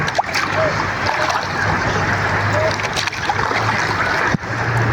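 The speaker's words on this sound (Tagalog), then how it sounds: "Malakas pa naman ang alon." Water slaps and splashes against a small boat's hull amid constant wash and engine-like rumble, continuous and close, with brief louder knocks.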